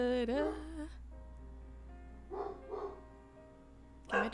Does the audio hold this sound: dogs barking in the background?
yes